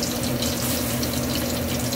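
Water is poured into a pot of Filipino beef pares, giving a steady, close rushing and bubbling hiss with a faint sizzle underneath.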